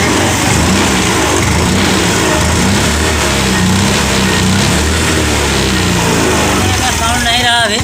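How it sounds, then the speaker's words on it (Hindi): A Hero Pleasure Plus FI scooter engine, just after a gearbox oil change, idles and runs steadily up close, a continuous loud mechanical hum that holds throughout with slight revving variation. "और डायरेक्टली हम स्टार्ट करेंगे यहाँ से। और गाड़ी को चेक करेंगे यहाँ पर।"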